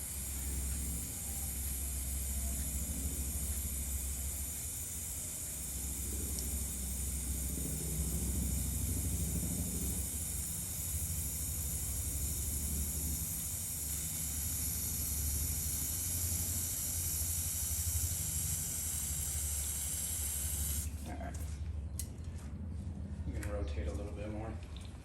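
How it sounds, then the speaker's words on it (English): Chain wax is sprayed onto the chain of a 2022 Yamaha MT-09 during its 600-mile service, a steady, close aerosol hiss that runs throughout and cuts off near the end, with someone talking over it. "now we're going to go and apply our chain wax"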